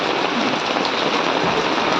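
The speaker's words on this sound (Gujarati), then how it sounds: "ડાયરેક્ટ છાંટા તગારામાં પડે છે" Rain falls straight into a basin, giving a dense, continuous patter of drops that is close and loud, with no voices or other sounds.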